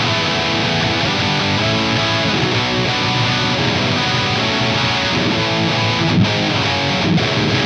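Distorted electric guitar riffing through a Mesa 4x12 cabinet at modest gain, with a sandy, loose low end. It plays continuously and loud, dense chords ringing with no pauses.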